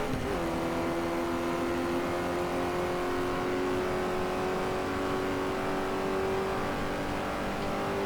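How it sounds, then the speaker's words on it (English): A Lotus race car in the GT Legends racing game drives off with a sustained, droning engine note whose pitch rises slightly as it slowly pulls away, heard alone without talk. "We get to listen to the sounds of the Lotus disappear."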